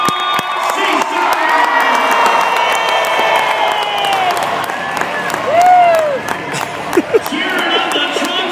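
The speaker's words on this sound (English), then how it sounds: "One cheer for John Seasock" A Monster Jam arena crowd in Sacramento cheers and shouts after a truck crash, with whoops and children's screams rising above a loud, sustained roar and clapping, while an announcer talks over it.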